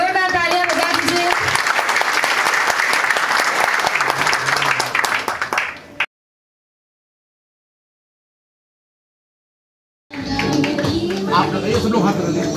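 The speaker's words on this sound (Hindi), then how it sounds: "सभी लोग एक बार जोरदार तालियां बजा दीजिए।" A crowd at a Union Bank of India and Fino Bank event for banking correspondent agents claps loudly with voices mixed in, then the sound cuts to silence before the clapping and voices resume.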